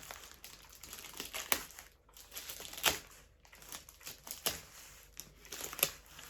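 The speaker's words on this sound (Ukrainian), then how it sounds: "Так, пакет з нього викидаємо. Щось важке. Давайте вскриємо." Plastic packaging crinkles and rustles as a parcel is unpacked, with a run of irregular close crackles and sharper crunches separated by brief pauses, quiet overall.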